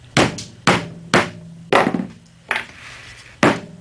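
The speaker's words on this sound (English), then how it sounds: "Take the hammer with the piece of wood between the plug and the wood and just give it a gentle tap." Six firm hammer taps, through a piece of wood, land on a wooden plug in an Adirondack chair at an uneven pace, each a short, close, solid knock with a brief ring.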